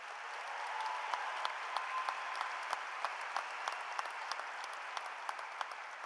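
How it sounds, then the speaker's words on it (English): An audience at Coronado High School's 2019 graduation ceremony applauds for about six seconds, a soft, somewhat distant wash of clapping with individual claps ticking through it. "Please join me in applauding these leaders."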